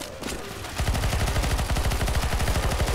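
Rapid automatic gunfire in CS:GO Zombie Escape, a loud, close, sustained stream of evenly spaced shots after a brief quieter lead-in.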